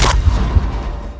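A single sharp rifle shot from a sniper in a stealth game, loud and close, with a booming low tail and echo fading over about a second, and a smaller thud partway through.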